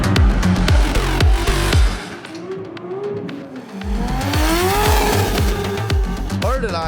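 A drift car starts its first qualifying run at a big Middle East drift event, roaring with loud engine revs, short bursts and squealing tires close by, with a brief lull in the middle before the engine roars back.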